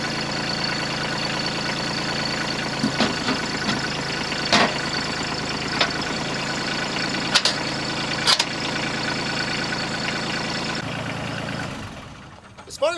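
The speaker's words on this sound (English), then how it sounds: "you just tip the bucket up into it, it latches on, and you push these handles back down again" A tractor front loader tips its bucket up onto a universal skid steer quick attach, heard as a steady idling engine drone throughout with a few brief metallic clunks and knocks as the bucket latches, near and fairly loud.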